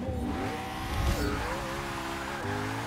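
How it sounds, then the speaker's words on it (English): A Koenigsegg One:1 accelerates hard in a mile-long drag race in Forza 6, its engine note climbing steadily with distinct shift drops, loud and continuous with no voices. "Mile long drag race in the Koenigsegg."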